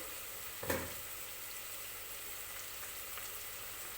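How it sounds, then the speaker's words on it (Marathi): Onions frying in oil with a pinch of salt for mutton biryani give a soft, steady sizzle, broken near the start by one brief clatter, with no voices. "कांदा भाजताना काय करायचं अगदी थोडंसं मीठ टाकायचं म्हणजे कांदा जो आहे तो लगेच भाजला जातो"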